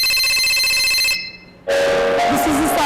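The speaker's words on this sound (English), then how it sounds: "Then this is the sound of call bell." A call bell rings with a bright sustained metallic tone that stops abruptly, followed after a short pause by a different tonal sound.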